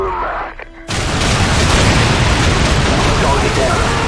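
A loud explosion erupts in the Call of Duty 4: Modern Warfare campaign, a sudden heavy boom after a brief quieter moment, then a sustained roaring rumble and debris wash that fills the rest of the clip.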